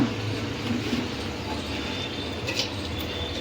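A mixer grinder runs on soaked lentil batter with sour curd and a little water, producing a steady, continuous whirring roar that holds without pause for the whole moment.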